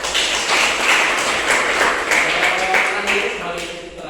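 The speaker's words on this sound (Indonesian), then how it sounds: "Mari tepuk tangan untuk teman-teman ya." Classmates applaud in a classroom with a steady, dense burst of group clapping that runs throughout and eases slightly at the end.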